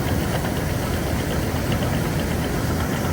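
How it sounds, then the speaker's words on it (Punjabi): A tractor engine runs during a paddy harvest, giving a loud, steady, close diesel rumble with a slight knocking texture that holds unbroken throughout. "ਉਹ ਵੀ ਟਰੈਕਟਰ ਚੱਲ ਰਿਹਾ"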